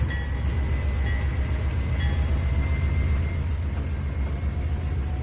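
A train in the video game Trainz 2019 rumbles steadily past, with a low continuous roar and faint high squealing tones throughout, no voices.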